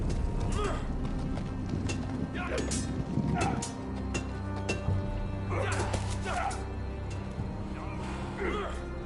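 Horse hooves clip-clop in a Game of Thrones video game, slow repeated hoofbeats in groups against a low ambient hum, with a character speaking over them.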